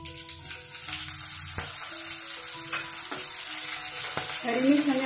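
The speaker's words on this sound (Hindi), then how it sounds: "हरी मिर्च हमें अच्छे से फ्राई कर लेना है।" Green chilies fry in oil with cumin seeds, making a soft, steady sizzle with light crackles and a few stirring taps. A brief watery bubbling comes near the end.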